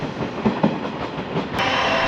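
A local electric train on the Sanyo Line pulls into a station platform, rumbling steadily with faint rhythmic clacks from the wheels, a continuous close mechanical roar with no voices.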